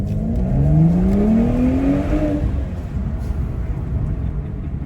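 A tuned BMW 335i accelerates hard down a stretch of road behind a shop, its engine note loud and rising steadily in pitch before easing into a steady drive-by hum, with no talking over it.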